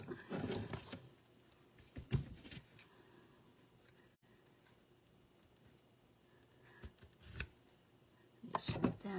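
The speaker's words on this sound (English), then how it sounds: "Just snip that off" Scissors snip card stock in a few quiet, crisp cuts near the start and again toward the end, with soft paper rustling and handling sounds in a calm crafting space.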